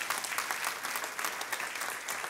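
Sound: congregation applauding loudly

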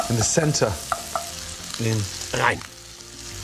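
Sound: Italian sausages frying in a hot pan

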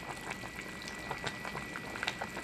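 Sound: chicken tinola soup boiling in pot

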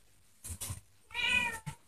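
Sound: cats meowing

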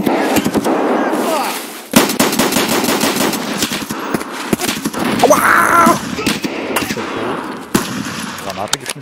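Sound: grenade explosion and gunfire in Escape From Tarkov video game

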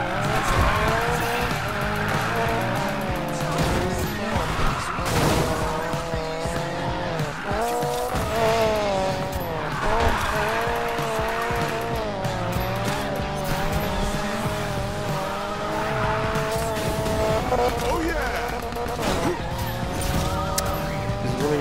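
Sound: car drifting with tire squeal in video game Need for Speed Payback

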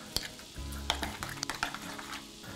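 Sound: stirring salsa verde with Parmesan in a bowl

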